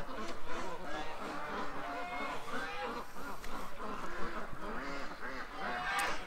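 Ducks in a yard quack and honk in repeated overlapping calls at moderate distance, a steady chatter of fowl throughout with faint background noise.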